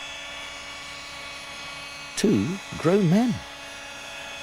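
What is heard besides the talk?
model helicopters flying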